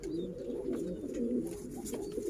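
Pigeons coo steadily in a low, continuous murmur from a flock of breeding tumbler-type birds with their young in a loft, several soft overlapping calls close by with faint chirps above.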